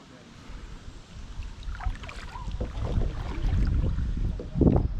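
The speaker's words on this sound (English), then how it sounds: "The wind is blowing me all around here." Wind buffeting a kayak on the Buffalo National River, a steady rumbling gust noise on the microphone that swells louder toward the end, with faint water sounds beneath.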